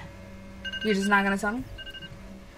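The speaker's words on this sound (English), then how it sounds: "that's my alarm letting me know like" A phone alarm sounds a short run of electronic beeps near the start, with a brief louder tone in the middle, while someone speaks over it.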